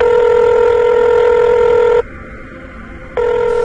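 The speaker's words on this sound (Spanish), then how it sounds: "cuando de repente sonó el teléfono" A telephone ringing close by in a loud electronic trill that stops briefly, then starts again.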